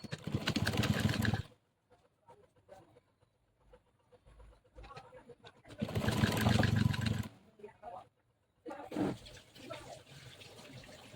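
A sewing machine stitches pajama fabric in two bursts of dense whirring, close and fairly loud, separated by quieter handling sounds, with a voice talking during the pauses.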